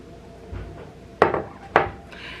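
A knife chops twice through balled-up cilantro on a wooden cutting board while making fresh pico de gallo, two sharp close knocks after a soft bump.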